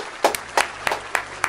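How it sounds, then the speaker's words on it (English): A small audience gives a brief round of applause: five distinct, crisp claps land at a slow, even pace, each sharp and close against a quiet background. "Give him a round of applause"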